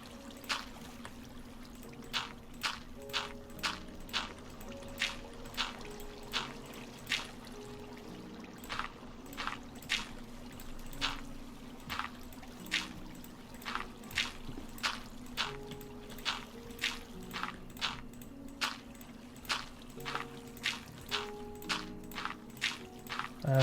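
Water running from a water source in the modded Minecraft survival game, a faint steady trickle with regular soft clicking ticks repeating through the scene and no voices.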